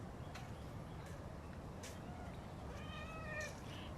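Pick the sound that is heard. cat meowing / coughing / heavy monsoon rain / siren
cat meowing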